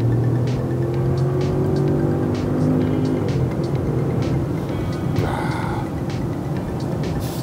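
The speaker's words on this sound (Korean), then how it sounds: "이게 소리가 다 들어갈지 모르겠는데, 역시 참 이 V8 엔진만의 그런 굉장히 박력 있는 그런 엔진이잖아요" A supercharged 530-horsepower V8 in a Land Rover Range Rover SUV roars under hard acceleration, a loud, steady rumble that climbs in pitch and holds for several seconds.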